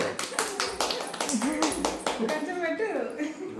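Clapping at a toddler's second birthday gathering at a family home, a quick run of hand claps mixed with cheerful voices talking and calling out over them.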